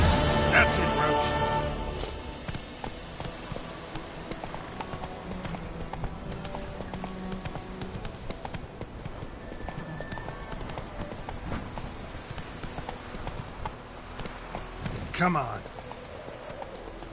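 Roach, Geralt's horse in The Witcher 3, trots with steady clip-clopping hooves throughout, close and clear, while someone speaks briefly over the sound.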